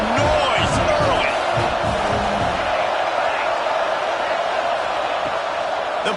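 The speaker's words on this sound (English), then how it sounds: "This crowd bringing the energy and noise early." A football stadium crowd roars continuously at a Yellow Jackets game, a broad steady wash of noise with bursts of cheering, heard under talk early on.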